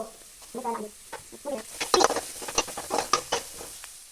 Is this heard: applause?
no